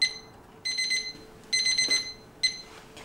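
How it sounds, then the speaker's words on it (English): Kitchen timer alarm sounding in a home kitchen during sourdough bread baking: three bright, high-pitched beeping bursts repeating at a steady rhythm, close and clear, with no talking. "my first 20 minute timer is done"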